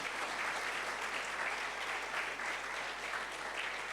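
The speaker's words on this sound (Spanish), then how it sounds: "Den un fuerte aplauso al Señor." A church congregation gives a loud, sustained round of applause during a sermon, a thick, even wash of clapping that continues unbroken throughout.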